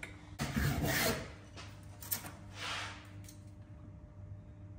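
A rebate plane shaving a practice piece of timber, giving a few soft rasping strokes at close range, the first one longest, followed by quieter brushing and then near silence.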